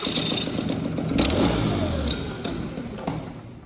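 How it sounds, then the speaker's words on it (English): Rotax Max racing kart engine revving roughly up and down without reaching full revs, a strained, sputtering two-stroke buzz heard nearby with no talk. "It won't even rev, so it don't like that at all."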